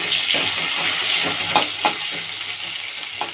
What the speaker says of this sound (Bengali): আলুগুলোকে ভেজে নেব ভেজে তুলে রাখবো